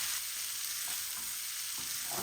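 Okra and egg frying in oil while being stirred, a loud, bright continuous sizzle up close with faint scraping strokes and no voices.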